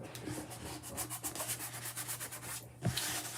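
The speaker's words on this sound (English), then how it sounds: "I'm just going to use my small squeegee, which is bigger than the mini squeegee" A small squeegee drags chalk paste across a stencil screen in a run of soft, repeated scraping strokes, fairly quiet and close, with a slightly sharper swipe near the end.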